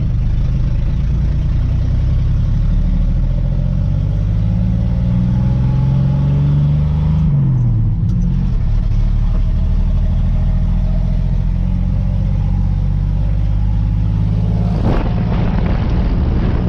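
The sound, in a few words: 1980 Chevy C20 truck engine running while driving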